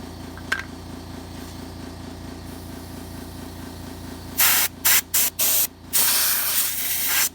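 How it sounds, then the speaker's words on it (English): Compressed air blasts out around an air filter cover held down by hand on a small engine during a tune-up, coming as several sharp, loud hissing bursts with short gaps, over a steady low mechanical hum. "Cover it up with my hand and blow out from around it."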